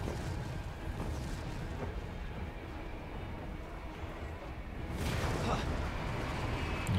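A rumbling blast in Resident Evil 2 Remake swells around five seconds and rolls over the continuous low game noise. It is loud and sustained rather than sharp.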